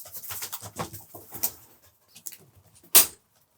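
Soft cooing of a small pigeon held close during handling and vaccination, low throaty murmurs in short bursts, followed by a sharp rustle or flap near the end.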